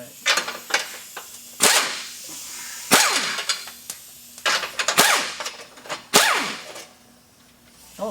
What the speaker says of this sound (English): Now you can loosen those bolts.